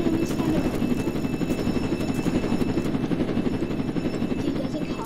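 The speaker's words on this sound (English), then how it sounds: "How do you get inside the helicopter?" Helicopter in a video game, a steady, loud rotor rumble that fills the whole stretch with faint crackles of gunfire mixed in and no one speaking.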